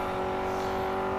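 A race car engine in the video game Grid 2 drones at high revs in sixth gear, a steady loud whine with no speech.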